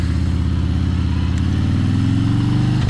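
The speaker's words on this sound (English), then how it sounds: "Listen to that engine." A 2019 Harley Davidson Ultra Limited engine rumbles steadily and loud in a deep low throb while cruising down the road, with no talk.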